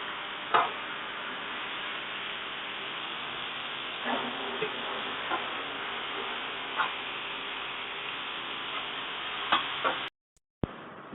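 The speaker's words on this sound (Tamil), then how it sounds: "வெங்காயத்தை நல்லா கோல்டன் கலராக வதக்கிக்கலாம்." Onions sauté and sizzle in a pan for Chennai-style chicken biryani, a steady soft hiss with a few scattered stirring taps, close and moderate in level, cutting out briefly near the end.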